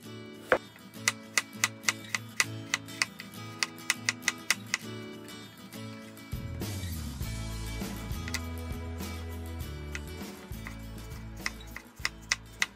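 A knife cuts apples into thin, even slices on a board, sharp crisp taps arriving in a regular rhythm, then a stretch of low background music with a few more cuts at the end.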